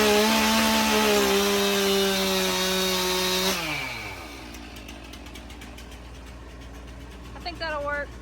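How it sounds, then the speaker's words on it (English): A chainsaw saws off a small piece of long board, roaring loudly and steadily for about three and a half seconds before winding down, followed by quieter knocking and handling sounds. "I'll probably take the chainsaw and get this little piece off"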